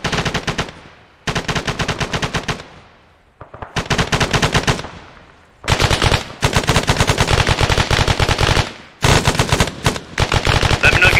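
Machine guns firing in the ArmA 3 military video game, loud close bursts of rapid automatic shots in several long volleys separated by brief pauses.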